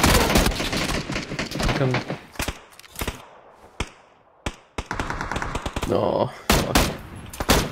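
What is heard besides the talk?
gunfire in PUBG video game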